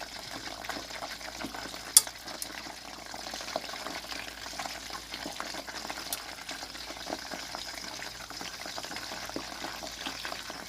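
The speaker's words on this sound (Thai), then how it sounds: "ใช้เวลาทอดหมูกรอบใส่เวลาเป็นชั่วโมงเลยค่ะเพื่อนๆ" Crispy pork belly frying in oil crackles with a low, steady bubbling sizzle and scattered small pops, with one sharper snap early on.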